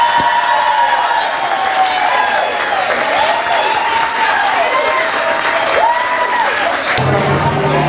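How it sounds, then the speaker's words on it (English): Wedding reception guests applaud and cheer for the bride and groom, loud continuous clapping with whoops and crowd voices, ending abruptly. "let's give a round of applause for our newest bride and groom, Gary and Mandy, ladies and gentlemen."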